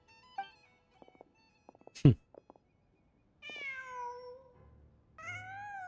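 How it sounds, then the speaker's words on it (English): A cat meows in a Genshin Impact game scene, two separate drawn-out meows heard clearly after a scatter of soft clicks and one sharp thump. "Just a cat."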